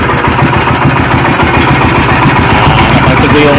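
A Sumo 15HP gasoline engine runs steadily at close range, a loud, continuous mechanical drone with fine rapid pulsing and vibration throughout.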